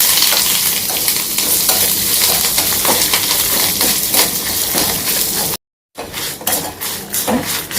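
Curry leaves frying and being stirred in a pan for a ripe brinjal recipe, a steady loud sizzle with scraping strokes throughout, broken by a brief silent cut before the sizzling resumes.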